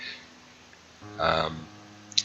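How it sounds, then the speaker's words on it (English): A dog's toy squeaks in a short burst of high, rubbery squeals from somewhere in the background, followed by a brief click. "you can hear the dog squeaking its toy behind me."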